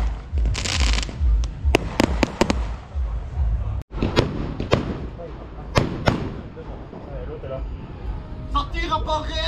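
Sharp firework bangs and crackles burst out repeatedly near a motocross event's muddy parking lot, several loud reports in quick clusters, with people talking over and between the blasts.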